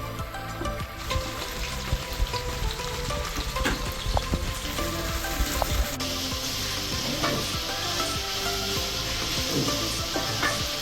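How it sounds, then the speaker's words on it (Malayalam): Chopped onion frying in a pan for a chicken roast masala, a loud, continuous sizzle with stirring scrapes throughout, close and without talk. "അതിനുവേണ്ടി ആദ്യം അരിഞ്ഞു വെച്ച സവോള ഇടുക"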